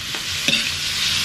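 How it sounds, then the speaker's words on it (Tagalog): Meat sizzles steadily as it browns in a pan for a mung bean dish, with one brief scrape of a utensil partway through. "Ayan, so gigisahin ko lang siya"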